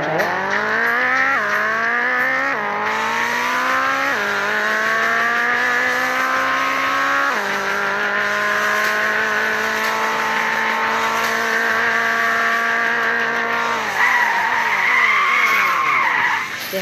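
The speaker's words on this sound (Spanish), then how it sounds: "Ahora haré los frenos de emergencia." A car under emergency braking skids with long, loud tire squeals that rise and fall in repeated waves, sustained over many seconds with no voices.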